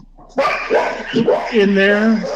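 Dogs bark and yip close by, several short barks with whimpering tones, mixed with a voice speaking over them.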